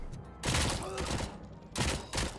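Submachine gun fire, a 9mm SMG in the video game RoboCop: Rogue City: loud close bursts of rapid shots in two main volleys separated by a brief lull.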